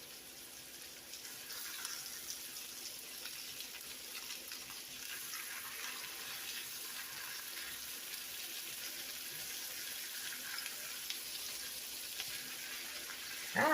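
Hamburger patties frying in a pan, giving a steady, close, fairly quiet sizzle that runs unbroken from start to end, with no talking.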